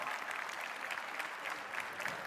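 Audience applause for a Socialist Party member of the Assembleia da República introduced at a debate on nursing autonomy, a steady, dense wash of many hands clapping close by for a couple of seconds.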